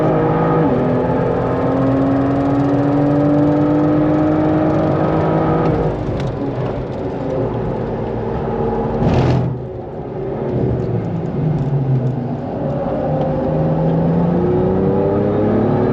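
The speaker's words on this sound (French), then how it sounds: "c'est vraiment une bonne voiture" A car circuits a track at a trackday, its engine droning steadily with shifting pitch, then one sharp whooshing pass midway before the motor note resumes, continuous and prominent.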